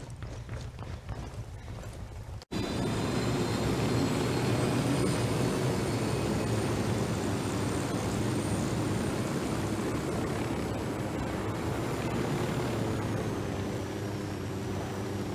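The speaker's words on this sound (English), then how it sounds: "Drone is up." A surveillance drone in the Ghost Recon Wildlands video game starts up abruptly after a short quiet stretch, then holds a loud, steady, buzzing engine drone that continues unbroken to the end.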